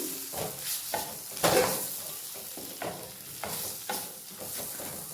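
Green chili paste fries in a pan for beans fry, with a steady sizzle broken by repeated scraping and stirring strokes, close up.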